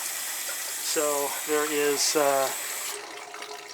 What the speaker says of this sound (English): If we open this up, you can see we have significant water coming out.